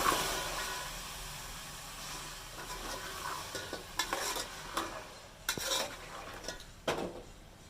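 Vegetables fry with spices in a pan, giving a sizzle that fades under repeated clinks and scrapes of a metal spoon striking the pan, sharper and more frequent toward the end.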